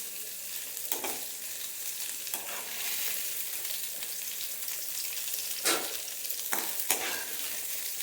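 Mudakkathan keerai leaves being lightly sautéed in a pan, giving a soft continuous sizzle with a few distinct stirring scrapes at intervals, close and moderately loud, with no speech.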